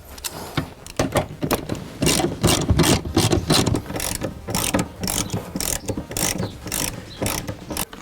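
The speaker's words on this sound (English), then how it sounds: "use a fairly small ratchet to get to the back" A small ratchet tightening race seat bolts in a car, rapid bursts of clicking strokes repeating close by, no talking.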